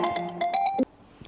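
A mobile phone rings at home with a short run of bright, repeated melodic ringtone notes that cut off abruptly, leaving near silence.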